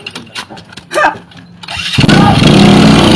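A motorcycle engine cranks and catches at about two seconds, then settles into a loud, steady idle close by. Before it starts there are voices and rustling in a Sundanese comedy sketch.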